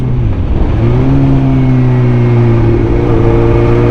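A motorcycle with a faulty gear indicator runs at speed in fourth gear around 120, a loud, close, steady engine drone whose pitch climbs gradually as it pulls, with rushing wind noise throughout.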